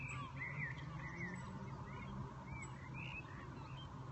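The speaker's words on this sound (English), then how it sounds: "You hear all these birds?" Birds calling and chirping outside a loft window in the early evening, several faint, scattered calls over a steady low background hum, heard at a distance with no talking.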